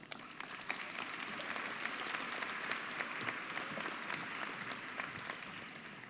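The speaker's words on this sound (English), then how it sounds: "help me welcome Ms. Reda with a round of applause." An audience at a 2017 high school graduation ceremony claps in sustained applause, a dense, even patter from a large crowd that holds steady throughout, fairly distant with no speech.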